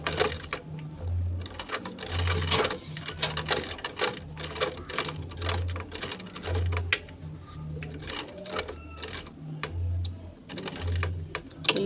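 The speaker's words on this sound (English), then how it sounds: "Now I'm just going to sew." Sewing machine stitching a bag, running in steady rhythmic bursts with short pauses between runs, close and fairly loud, with no talk.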